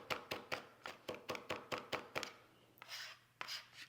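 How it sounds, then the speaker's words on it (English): Fresh parsley chopped with a Nakiri knife on a board: about a dozen quick, even knocks in a steady rhythm, close and crisp, then a pause and a couple of softer scraping sweeps. "So we're just chopping up the parsley while the green beans are finishing up."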